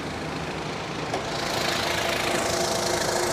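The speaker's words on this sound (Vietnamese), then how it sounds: "Máy êm ru." The turbo diesel engine of a 2008 Ford Everest idles smoothly, a steady broadband rumble with a faint knocking texture, heard close and continuous with no talking.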